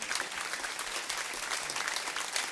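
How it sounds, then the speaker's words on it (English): Audience applause at an alumni career day, a steady dense patter of clapping hands filling the room without pause, moderately loud and continuous. "You don't have to clap for me."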